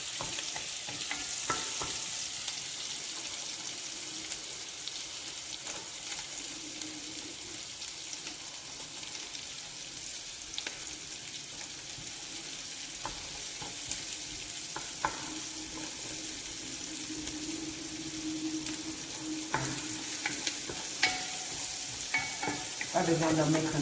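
Bell pepper frying in a pan with steady, close sizzling and occasional scraping stirs that run continuously throughout, with no talking.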